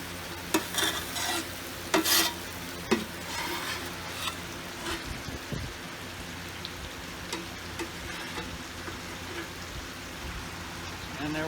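Steak fajitas with vegetables sizzle in a pan on a Watchman stove, a steady close hiss with scraping and stirring clatter near the start that eases into an even frying crackle.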